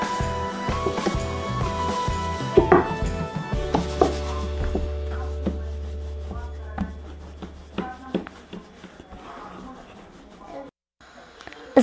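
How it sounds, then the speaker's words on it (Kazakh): Manti dough is rolled out on a floured surface with soft rolling, rubbing and tapping sounds, close by and uneven in rhythm, while a person talks over the work. "Енді қамырымызды жаюға кірісейік."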